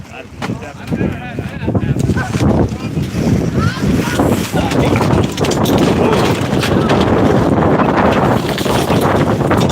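Strong gusting wind buffets the microphone in heavy, continuous rumbling roars, loud and close, with fluttering flaps and a voice faintly mixed in.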